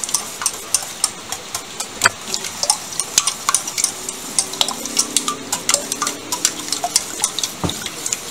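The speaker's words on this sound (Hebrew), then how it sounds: "מיד אני ארבב את הכל עם המטרפה" Whisk stirring quiche batter in a bowl, quick irregular metallic clicks and taps against the bowl repeating throughout, close and unaccompanied by talk.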